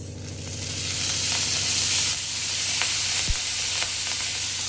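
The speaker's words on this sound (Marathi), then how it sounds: "आता त्याच्यामध्ये तेल टाकून घेऊया गवारमध्ये." Cluster beans (gavar) sizzling steadily in hot oil in a pan, a close, even frying hiss with a few small clicks of stirring.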